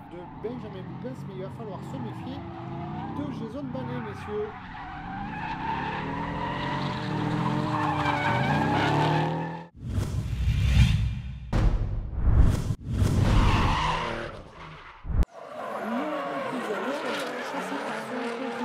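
At a round of a French drift championship, drifting race cars give sustained, rising tire squeal and engine roar, broken by sharp skids and passing whooshes, heard loud and close beneath a commentator's voice.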